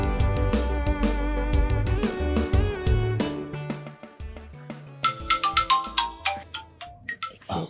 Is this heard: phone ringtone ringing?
yes